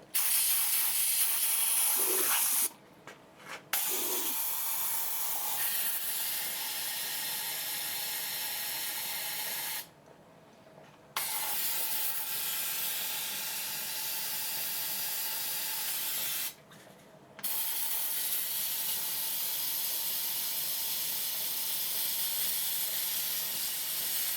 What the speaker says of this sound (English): Let me get a little bit of a carb cleaner in there.